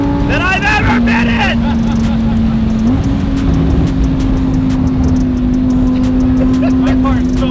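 A Lamborghini engine drones loudly and steadily from inside the car during a ride, its tone shifting slightly once partway through. A person talks over the engine noise.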